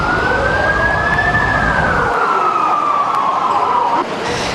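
A loud wailing fire truck siren passing, its long rising and falling tone over heavy traffic rumble, then cutting off abruptly, during a basement fire at a shopping mall in Cubao.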